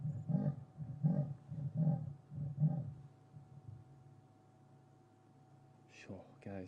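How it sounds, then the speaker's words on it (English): A male leopard gives a series of four rasping, sawing roars at a steady rhythm, close and clear, followed by a quiet stretch with low voices near the end. "he's roaring in Kerula's direction"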